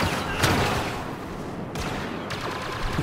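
Blaster gunfire from a Star Wars Battlefront match, a dense run of sharp energy shots with two louder bursts standing out against continuous battle noise, fairly close and steady throughout.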